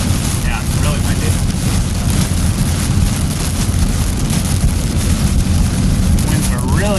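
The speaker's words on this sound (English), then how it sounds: "Yeah, it's really windy" Strong gusting wind roars continuously into the microphone during a severe-weather storm chase in Wisconsin, a loud, dense low rumble steady throughout with faint voices underneath.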